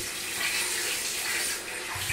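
Water running steadily into a tub for a baby's bath at a home in Jamaica, a continuous hissing splash at moderate distance with no talk.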